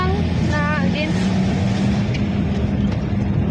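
A motorized tricycle in Wao, Lanao del Sur, Philippines gives a steady, loud engine drone that runs throughout. Voices talk over it.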